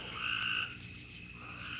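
Tree frogs croak in a steady outdoor chorus at night, with a louder, brighter burst of calls early on that then settles into a continuous background of overlapping croaks.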